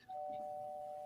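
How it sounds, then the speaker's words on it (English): A doorbell rings in the background as one long, steady electronic tone that sustains for about a second, faint and alone with no talk over it. "we have doorbells in the background"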